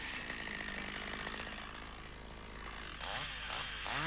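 A chainsaw limbs a felled tree trunk with the pushing chain, bar braced against the stem, its engine droning steadily throughout and revving higher near the end, close by with no talk.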